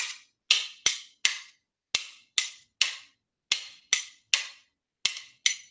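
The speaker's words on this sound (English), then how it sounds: "the spoons are going to go in a little arc on your leg, but we're going to use the Gallo pattern" Pairs of sharp, bright clacks from spoons played in an arc against the leg, repeating in a steady, loping Quebecois gallop rhythm, close and alone with quick decays.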